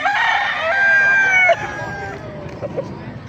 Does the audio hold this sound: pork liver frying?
no